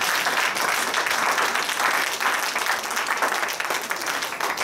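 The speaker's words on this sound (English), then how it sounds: "So if you are clapping your hands," Congregation at a Lord's Supper church service clapping hands loudly, a full, continuous crowd applause with slight swells, no talking over it.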